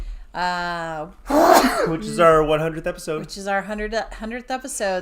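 A single sharp sneeze bursts out between stretches of conversational speech, close and loud, with people talking before and after it.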